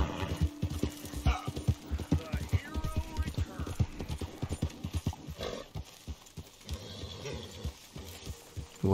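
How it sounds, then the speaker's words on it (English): Steady clopping of horse hooves in Red Dead Redemption 2 in a quick, repeated rhythm, close and fairly loud, with a brief whinny and busy background sounds. "We have a lot of horses here now."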